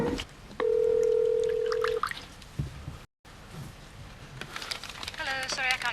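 A telephone being dialed: a long steady dial tone, then a run of quick keypad beeps and button clicks, close and clear, ahead of an answering machine greeting.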